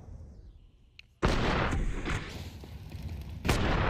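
An AWP sniper rifle fires a wallbang shot in Counter-Strike, a sudden loud boom after a quiet lead-in, followed by ringing noise and a second heavy blast near the end.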